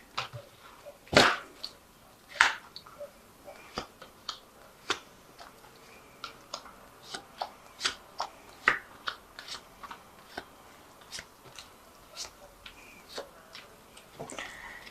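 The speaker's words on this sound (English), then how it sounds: "So I'll just draw some cards from it." Cards drawn from a Vikings tarot deck, a series of sharp, separate snaps and flicks at irregular intervals, close and fairly quiet, with no talking.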